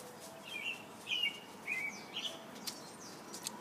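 Small bird chirping in a tree-filled backyard, a series of four or five bright, thin calls, fairly close, over quiet outdoor ambience.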